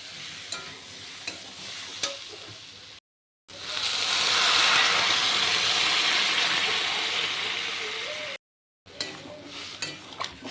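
Water is poured into a hot pan of cooking jackfruit and shrimp curry, setting off a loud, steady hiss and sizzle that lasts several seconds among quieter stirring sounds, then cuts off abruptly.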